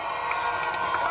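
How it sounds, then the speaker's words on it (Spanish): A crowd greeting President Nayib Bukele at a stage with a presidential podium keeps up a loud, continuous wash of cheering and shouting, dense and unbroken for the whole moment. "Fue recibido con aplausos y gritos de victoria"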